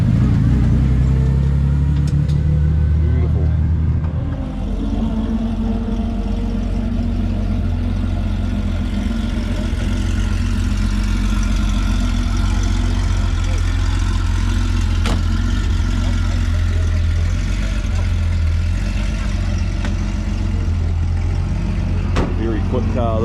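A 635 car's engine idles at a car show with a constant deep rumble and mid-range drone held for over twenty seconds, while a person speaks briefly nearby.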